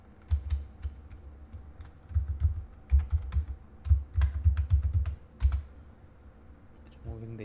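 Password being typed on a computer keyboard at a Linux terminal: bursts of soft, quick key clicks in uneven clusters, fairly close and quiet, ending with a brief pause before a final faint sound.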